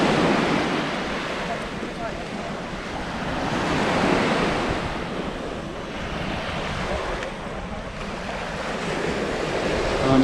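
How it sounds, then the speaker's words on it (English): Choppy, clear sea waves wash in on the shoreline at Cala Torta, Mallorca, a continuous loud surf roar that swells and recedes, mixed with wind buffeting the microphone. "trying not to get my feet wet as the waves come in."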